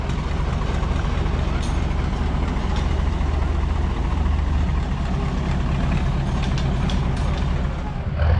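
A big truck engine idles with a deep steady rumble, loud and close, holding constant throughout with faint background activity.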